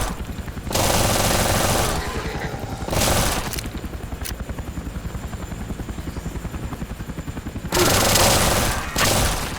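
SMG gunfire in the video game Those Who Remain: rapid continuous automatic bursts with a steady rattling rhythm, loud and close, with a few heavier surges where the firing swells.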